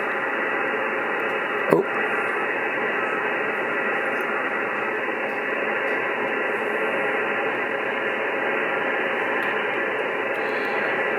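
Steady ham radio static hisses continuously without change, with one brief thump early on and a short word spoken over it.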